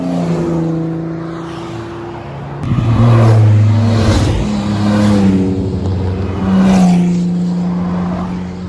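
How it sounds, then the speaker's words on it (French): A 12-cylinder Matra race car passes at a classic car rally in the Côte-d'Or, with a loud, close, high engine howl that swells, shifts pitch through gear changes and then recedes. "Oh, la 12 cylindrée Carrefour"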